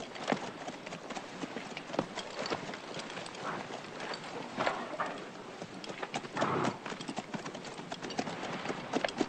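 Several horses' hooves clip-clop on ground at frontier cavalry stables, a dense, irregular stream of close thuds and knocks with faint movement behind.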